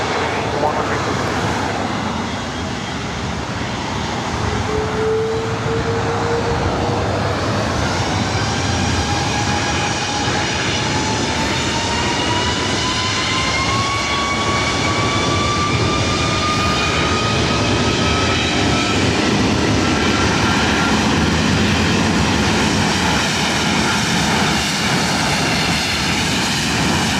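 A Philippine airliner takes off from runway 24 Right at LAX, its engines roaring loud and steady for nearly half a minute while a rising whine climbs in pitch as the jet spools up and accelerates.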